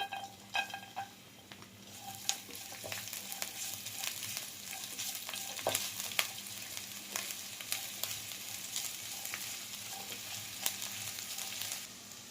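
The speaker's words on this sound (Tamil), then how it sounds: "எண்ணெய் சூடு வந்ததுக்கப்புறமா இஞ்சியும் பூண்டும் கட் பண்ணி வச்சுருக்கதை ஆட் பண்ணிக்கிறேன்." Ginger and garlic fry in hot oil in a pan, a steady close sizzle with occasional clicks and scrapes from stirring, and no voices.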